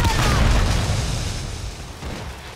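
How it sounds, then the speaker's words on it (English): Grenade explosion in Call of Duty Modern Warfare 3 multiplayer, a loud deep boom with a rumbling tail that slowly fades. "Throwing grenades."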